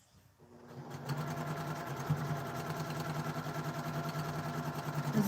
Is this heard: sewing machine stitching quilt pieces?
yes